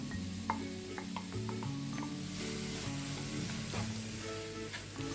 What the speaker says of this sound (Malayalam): ഇനി ഇതെല്ലാം കൂടിയിട്ട് ഒന്ന് വേവിച്ചെടുക്കാം.